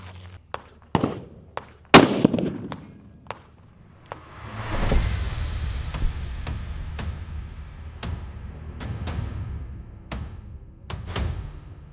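A .375 Remington Ultra Magnum rifle is fired into a gel block, heard as sharp, loud cracks spaced irregularly with several quieter distant-sounding pops and a rumbling stretch in between.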